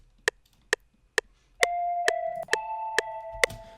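Dry ambient synth key loop called Crocodile Swamp, without effects: a few sharp ticking clicks alone, then soft sustained keyboard notes joining under the steady clicks, quiet and close.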